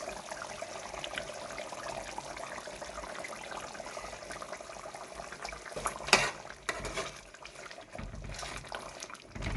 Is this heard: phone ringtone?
no